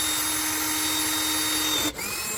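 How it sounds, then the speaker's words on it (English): A power drill whines steadily into a Can-Am X3's metal housing, then briefly cuts out before resuming, loud and close with no talking. "I'm gonna go ahead and drill this one"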